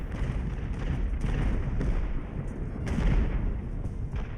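Cannons boom in the naval battle game Ultimate Admiral Age of Sail, with repeated dull thuds and rumbling broadside fire over constant low battle noise.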